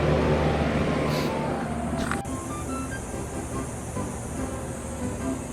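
A newly installed air conditioner condenser fan motor runs with a steady, broad whooshing roar and low hum, loud and close, with a brief click partway through and no talking.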